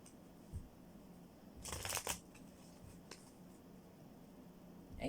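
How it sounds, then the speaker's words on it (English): Playing cards shuffled in a quick burst of riffling near the middle, with a few faint card taps before and after against a quiet room. "That's what that shuffling was all about."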